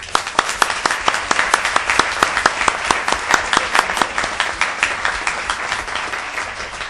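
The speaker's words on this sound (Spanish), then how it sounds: "un fuerte aplauso en reconocimiento a los miembros nuevamente admitidos" An audience applauds newly admitted members at a formal ceremony, with sharp, distinct claps that fall into a loose rhythm. The clapping is loud and close, and it continues steadily for several seconds.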